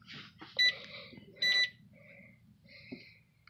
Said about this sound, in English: it's actually a kitchen timer